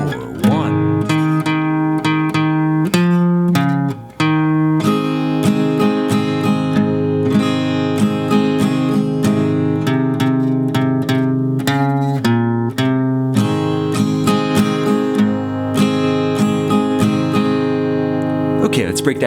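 Guitar plays the rhythm part and horn-style lead line of a song at a slow tempo, a loud, close, steady run of strummed and picked notes with a short pause early on.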